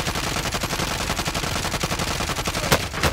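Rapid automatic gunfire from a Call of Duty Warzone match, dense bursts of shots rattling almost continuously at close range, with a sharper crack near the end.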